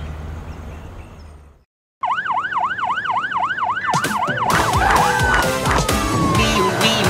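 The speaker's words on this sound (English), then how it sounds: "My siren is gone." A cartoon police car siren in a children's song wails in a fast, rising and falling pattern after a short silence, then gets buried under loud music and crashing sounds.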